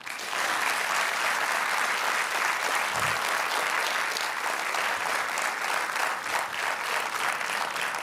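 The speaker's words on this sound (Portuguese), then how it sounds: "eu gostava tanto que vocês aplaudissem" Loud, sustained audience applause fills a song festival hall, dense clapping from a large crowd continuing evenly for several seconds without a break.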